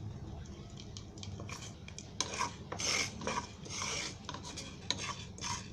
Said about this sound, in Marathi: पहिले मेथीचे दाणे भाजून घ्यायचे, कारण ते जाड असतात ना, त्या भाजायला जरा टाईम लागतो